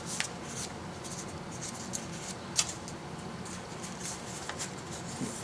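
Paper being folded for an origami phone stand gives soft, close rustles and creases, with a steady papery shuffle and one sharper crinkle in the middle, and no talking.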